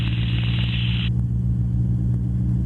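A Spitfire's piston aero engine drones at a steady, loud idle as the aircraft taxis, a constant deep rumble throughout with a high whine dropping away after the first second.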